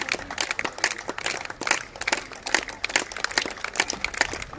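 Audience clapping at an Estonian cow beauty contest for Estonian Red breed cows, a dense, steady patter of many hands at moderate distance, continuous throughout without talk.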